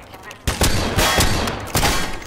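Gunfire in a Half-Life 2 roleplay game crackles out in several loud, close bursts that follow one another quickly after a brief quiet start.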